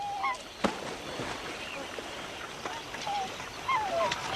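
Water birds call across a lake in central Australia, with scattered short whistling and quacking calls at moderate distance over a steady outdoor wash and a sharp knock near the start.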